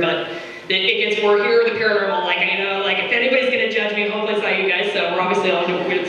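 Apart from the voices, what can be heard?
No distinct noise like a dog, phone or traffic.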